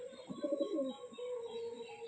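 A Mushki pigeon coos nearby in a short burst of soft, throaty warbling notes, followed by quieter background hum.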